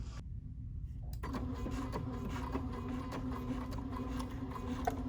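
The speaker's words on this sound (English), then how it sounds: "See how the machine stitched in place like that?" A BERNINA 4, 5 or 7 Series sewing machine runs steadily at close range, stitching securing stitches into fabric. A constant mechanical whir with a fine repetitive ticking starts after a brief quiet moment and continues alone.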